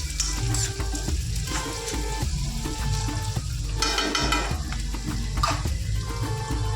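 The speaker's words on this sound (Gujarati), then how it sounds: "હવે તેમાં આપણે ડુંગળી નાખી દઈશું" Chopped onion sizzles in hot oil in a pan over a low gas flame, cooking for a Kathiyawadi-style vaghrela rotlo: a steady frying hiss throughout, with occasional clinks and scrapes of stirring, close and fairly loud, no talking.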